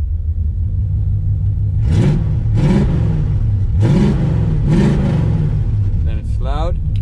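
A car engine with exhaust cutouts open idles with a deep rumble and is blipped several times in a rhythmic series of loud, throaty revs, ending with a brief higher whine.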